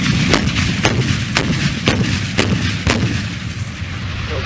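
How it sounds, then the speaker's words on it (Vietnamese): An S-60 anti-aircraft artillery battery in Vietnam fires a salvo: about six loud, sharp booms come at roughly half-second intervals, each echoing over a steady rumbling background, with no talking. "Các khẩu đội pháo đồng loạt khai hỏa."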